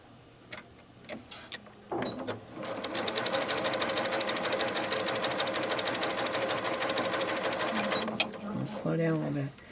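A domestic sewing machine stitches a quilt block triangle in one steady, fast run of close, rhythmic needle clatter lasting several seconds before it stops, with a brief voice heard at the end.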